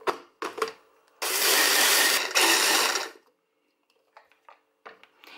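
A kitchen blender grinds long-cooking oat flakes in one loud, harsh burst of about two seconds, set between soft clicks and handling knocks of the appliance.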